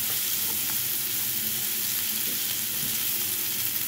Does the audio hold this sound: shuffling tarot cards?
no